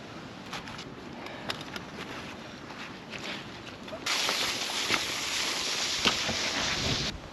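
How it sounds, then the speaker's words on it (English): Steady outdoor wind buffeting a microphone, a broadband rushing roar that grows noticeably louder partway through and stays strong with occasional gusty bumps. "sorry about the wind by the way"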